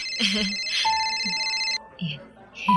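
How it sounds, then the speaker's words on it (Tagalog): A cellphone ringtone plays its bright electronic tones up close, repeating in short bursts, while people talk over it in a restaurant setting. "yung cellphone mo nagre-ring"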